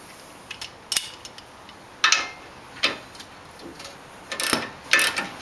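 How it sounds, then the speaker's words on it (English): Ratchet with an 18mm socket loosening a bolt on the anti-roll bar link of an L322 Range Rover strut, giving several short, sharp clicking bursts spaced irregularly, close and fairly loud, with no talking. "a regular ratchet."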